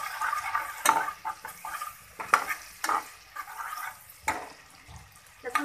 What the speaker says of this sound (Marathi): लसूण थोडासा आपला परतून घेऊया तेल आणि बटरच्या या मिश्रणात